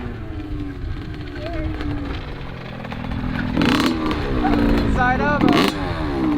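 Motocross motorcycle riding a track section backwards, engine revving and surging with rising and falling pitch, loudening toward the end, while people talk over it.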